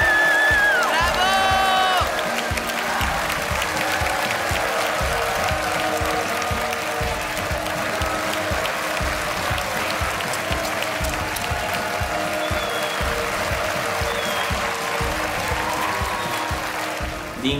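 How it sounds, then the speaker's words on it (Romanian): Studio audience on a dating show clapping and cheering, loud sustained applause with whoops and shouts throughout. "Bravo, felicitări, aplauze pentru ei!"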